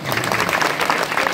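A short burst of dense audience clapping at a village kirtan gathering, steady and fairly loud from start to finish.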